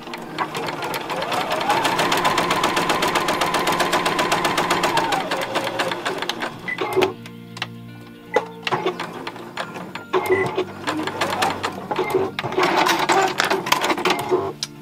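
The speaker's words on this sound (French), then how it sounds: "Donc je pique pour rattraper mes deux erreurs." A sewing machine stitches a seam to fix mistakes, running in a long steady close-up burst, then in shorter stop-and-start runs with clicks between them.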